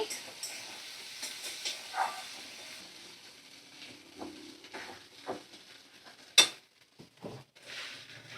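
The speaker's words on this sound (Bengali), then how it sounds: "তো সমস্ত মশলা ভালো করে আমি নাড়াচাড়া করে নেব।" Garam masala and spices stirred in a pan over a medium flame for goat liver chachchari give a faint, steady sizzle broken by scattered scraping clinks of the spoon against the pan, with one sharper scrape.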